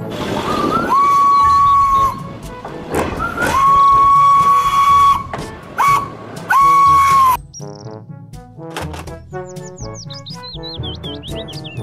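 A Thomas toy train gives three long steam-whistle blasts, loud and close, followed by a melodic run of chirpy electronic toy sounds and tooting notes.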